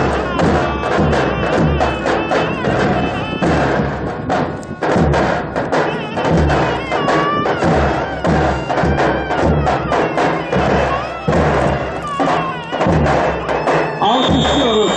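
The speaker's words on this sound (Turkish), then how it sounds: "Alkışlıyoruz Pehlivanlar." A crowd at a Kepez oil wrestling event applauds the wrestlers, a dense, loud, continuous patter of clapping with thuds and music-like tones beneath, and crowd noise throughout.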